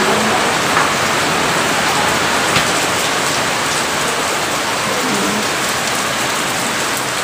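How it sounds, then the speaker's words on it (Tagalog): Heavy rain pours outside during a windy, cold New Year's spell, making a loud, steady hiss of drops on surfaces that fills the whole stretch without pause. "Malakas yung ulan ngayon."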